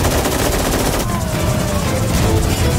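Mounted guns fire in a sustained, dense barrage of rapid shots in an action film scene, loud and continuous throughout, with faint voices mixed underneath.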